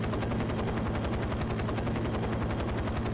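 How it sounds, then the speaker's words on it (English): Helicopter in 007 NightFire on a rooftop, a steady rapid chopping of rotor blades with a low throbbing drone, loud and continuous throughout, no talking. "I don't know why the helicopter sound stays if you skip the cutscene"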